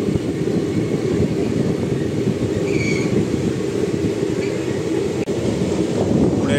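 Kakinada Express passenger train rumbling steadily at a station platform, a loud continuous roar of wheels and carriages with brief metallic squeals, no talking.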